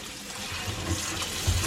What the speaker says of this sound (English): Okay, so we're gonna wash our lobster